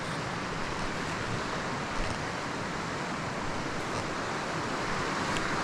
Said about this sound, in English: listen to the flowing of the water